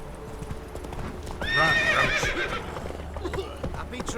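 Roach, a horse in The Witcher 3, gallops with quick rhythmic hoofbeats and lets out a loud, clear whinny in the middle, with a voice speaking alongside.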